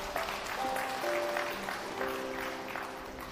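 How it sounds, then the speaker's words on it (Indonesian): A church congregation claps during a sermon, a steady wash of applause that stays loud throughout, with tones from instruments sustained underneath. "Beri tepuk tangan."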